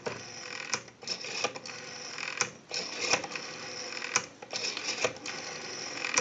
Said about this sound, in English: We have a nice smooth return on our rotary.